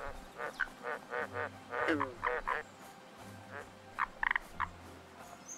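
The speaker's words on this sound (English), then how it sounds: "some weird sounds. Weird birds out here." Odd croaking, honking bird-like calls ring out in a rhythmic run of short pulses in the video game Sengoku Dynasty, with a later burst of sharper calls over low ambient wind.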